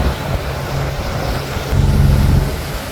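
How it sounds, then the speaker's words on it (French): Wind gusts and waves buffet a sailboat during a squall on an Atlantic crossing, a steady broad roar swelling louder in the second half with low rumbling from water and hull, no voices. "Là on commence à sentir les rafales de vent, c'est quand même bien perceptible."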